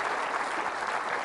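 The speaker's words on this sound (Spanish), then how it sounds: "Fuertes aplausos a la palabra de nuestro Dios y Salvador Jesucristo." A church congregation applauding during a Catholic sermon, a brief, dense wash of many hands clapping at once, loud and even throughout.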